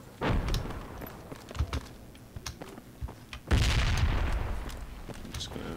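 Frag grenade explosions inside a house in the Project Reality military shooter, two muffled booms several seconds apart amid scattered gunfire cracks, moderately loud with rumbling tails.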